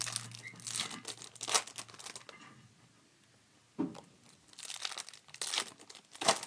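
A trading card pack, a Merlin UEFA soccer mixer, is crinkled and torn open in bursts of crackling foil, with a sharp rip near the end and quiet pauses between, close to the listener.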